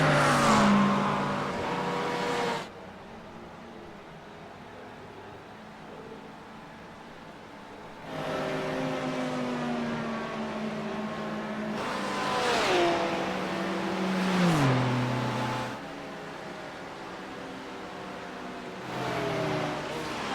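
Simulated GT3 race cars, including a Porsche, roar down the front straight at Daytona's road course in a sim racing game, engines rising through gear shifts in loud bursts as they pass, separated by quieter gaps.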